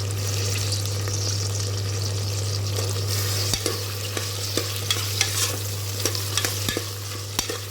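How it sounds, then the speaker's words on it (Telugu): Diced potatoes fry in a pan for a home-style aloo curry, with a steady close sizzle and intermittent scraping stirs and light clanks from about halfway through. "బంగాళదుంప 2 నిమిషాలు వేగిపోయింది."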